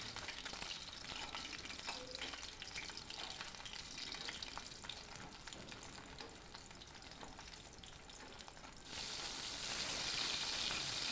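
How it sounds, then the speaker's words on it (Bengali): Fish pieces for chilli fish fry in oil over a medium flame, giving a steady, close, dense sizzle with faint turning and stirring noises, and the crackle grows louder toward the end. "মিডিয়াম ফ্লেমে 2 পিঠই লাল লাল করে আমি ভেজে নেব।"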